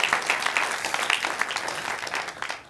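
Audience applause at a software release announcement on stage, dense broadband clapping sustained throughout and moderately loud, with no voices over it.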